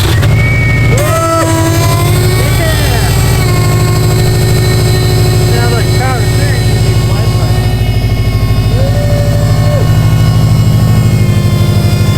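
A Subaru STI Launch Edition engine cranks and roars to life loudly, settling into a steady rumbling idle, with whining tones and brief voices mixed in.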